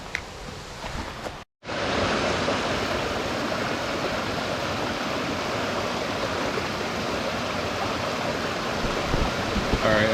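A stream running beside the Rose River Loop trail in a wooded river valley, making a steady, full rushing roar close by that continues without a break after a brief dropout near the start.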